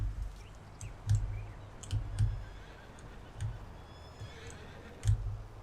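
Horses in a Farming Simulator 19 farm yard whinny and snort in short bursts, mixed with recurring clicks and light hoof-like taps at moderate distance.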